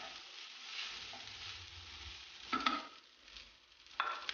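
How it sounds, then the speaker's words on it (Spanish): Fried rice chaufa with chicken and egg is stirred in a pan, soft scraping and light sizzling with a couple of sharper utensil clinks against the metal near the end. "Esto lo mezclamos todo junto."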